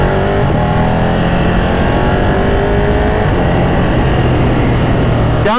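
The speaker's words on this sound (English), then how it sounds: "Downshifting on this bike is amazing" Ducati Panigale 959 Corse motorcycle engine revving through rev-matched downshifts while riding, a loud, continuous rasp with rising and falling pitch sweeps, captured close up without any talking.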